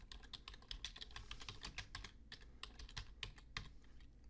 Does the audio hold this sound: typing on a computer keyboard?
yes